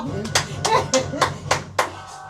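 Several loud, evenly spaced hand claps at home for a young boy, with voices talking over and between them.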